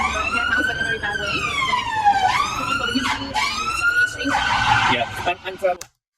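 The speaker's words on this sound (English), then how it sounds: "to have a siren go on in the background" An emergency siren wails in rising and falling sweeps. It is loud and fairly close, with voices talking underneath, and cuts off abruptly near the end.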